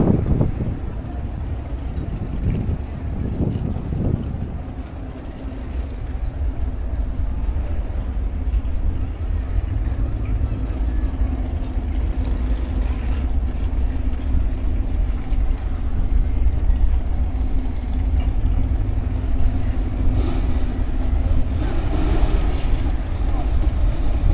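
A Ford Ranger pickup and a BMW launch down the Santa Pod drag strip at a power festival, their engines a continuous roaring rumble carried across the venue beneath steady announcer commentary over the public address.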